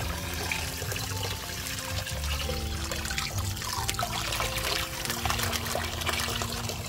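KISS Plus nutrient solution trickles and pours steadily into a container for several seconds, a continuous splashing gurgle with a low hum underneath and no talking.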